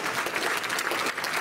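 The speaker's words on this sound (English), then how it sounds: "Child of God, go ahead and give him another clap" A church congregation claps together in a dense, even burst of applause that fills the room for a second or so, loud and close, with no voices heard over it.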